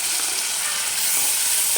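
Chopped tomato frying with spices in oil, a loud, steady broadband sizzle with no talking.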